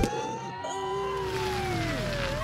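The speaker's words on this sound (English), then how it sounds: "I called ambulance." Ambulance siren in an animated Granny horror parody, a steady wailing tone that slowly sweeps up and down for a couple of seconds over a busy, moderately loud background.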